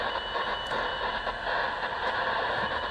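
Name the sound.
Morse code on shortwave radio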